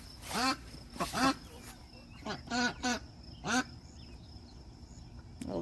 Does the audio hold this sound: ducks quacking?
yes